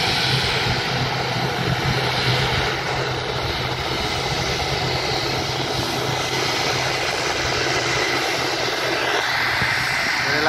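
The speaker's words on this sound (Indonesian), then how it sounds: "mengemudikan pesawatnya menuju ke arah taxi atau keluar dari apron menuju ke runway melalui taxiway." An ATR 72-600 turboprop airliner taxiing toward the runway, giving a steady, loud, continuous engine drone with a broad roar throughout and no talk.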